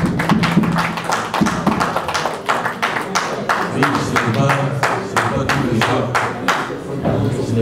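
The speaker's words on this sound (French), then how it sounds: "On peut applaudir." Audience at a Kinshasa press conference with two musicians claps in a brisk, steady run of sharp hand claps, close and loud, while someone speaks over it briefly.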